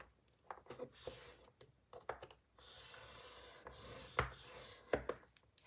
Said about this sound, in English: we are going to score again on the long side at a 1/2 inch